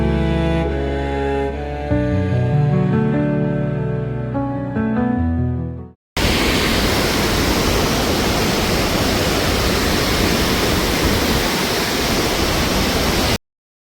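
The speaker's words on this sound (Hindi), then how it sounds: "Literally all the water is coming" Waterfall in Johnston Canyon, Banff, roaring steadily as a dense, loud, close wash of rushing water that fills the second half without a break, after an opening stretch of unrelated music.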